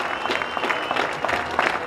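Audience applause at a horse breeding awards event in Iceland, a busy patter of many hands clapping at moderate loudness across the whole stretch, without speech.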